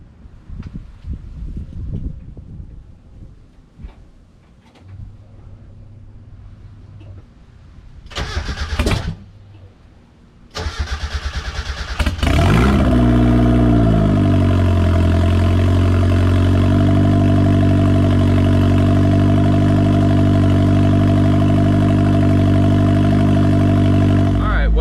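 Turbocharged Mazda Miata engine cranking and catching into a loud cold start, then settling into a steady, even idle close by, after some quieter handling noises and brief clicks.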